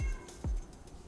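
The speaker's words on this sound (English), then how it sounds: "Hopefully you can't hear my cat meowing." Two short cat meows, the second louder and drawn out, close by with no talking.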